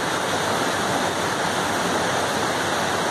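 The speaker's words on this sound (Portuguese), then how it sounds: "Parece que o nível da água está subindo." A rising stream in a natural setting rushes in a continuous, dense, hissing roar of flowing water, loud and steady throughout with no voices.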